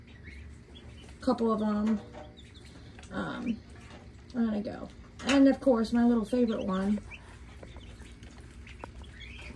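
Baby ducks, goslings and chicks call with faint, scattered peeps, mostly buried beneath a person talking close by.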